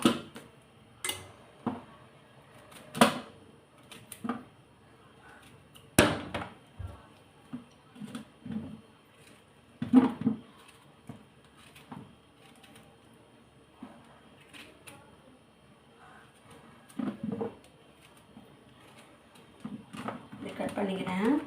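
A knife chops bottle gourd (sorakkai) into chunks for lunch, giving sparse, irregular close taps on a board with someone talking between the cuts.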